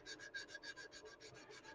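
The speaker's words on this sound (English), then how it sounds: "we're going to go ahead and do some more sanding to get those heavy" A model car body is sanded with grit sandpaper in quick, rhythmic strokes, about eight per second, giving a faint, close, dry rasp with no voices.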